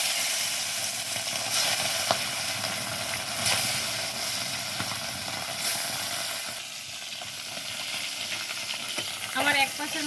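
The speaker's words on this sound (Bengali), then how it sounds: "আমি কড়াইয়ে তেল দিয়ে দিচ্ছি। মাছগুলো ভেজে নেব।" Fish fry in hot oil in a wok, a dense continuous sizzle and hiss with occasional stirring, close and steady before easing slightly toward the end.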